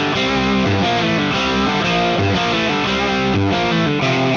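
A heavily distorted electric guitar plays thick, sustained chords through a boosted Fender amp model on an AM4 modeler, loud and dense with no pauses or voices.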